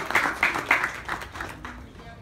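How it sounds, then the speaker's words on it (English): A small audience at a spoken word performance claps in a short, rhythmic burst of distinct hand claps that thins out and fades toward the end. "So, another round of applause."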